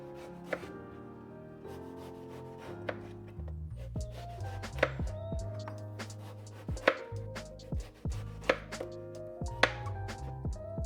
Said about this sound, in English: Cut the eggplant into blocks like the blocks in the Jenga game.